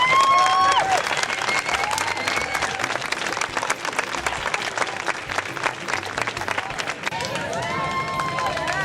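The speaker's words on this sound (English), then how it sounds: "That's going to give you a big shout, round of applause." An audience at a marathon gathering gives a sustained round of applause, dense steady clapping loud throughout with scattered cheers and whistles, easing slightly near the end.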